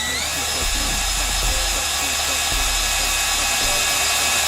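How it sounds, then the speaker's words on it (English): A reamer turns inside a Ferrea valve guide in a B18 VTEC cylinder head, shaving out excess copper with a steady high-pitched whine, broken by a couple of low thumps. "the reamer will just drop into the valve guide as it reams away the excess copper"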